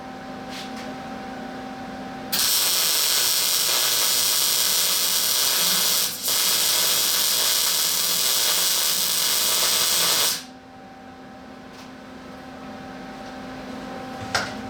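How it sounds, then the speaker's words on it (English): Steady, loud crackling hiss of welding parallel pieces onto an extended driveshaft lasts about eight seconds with one brief break, then fades to quiet shop background hum. "I'm going to go ahead and weld these parallel pieces"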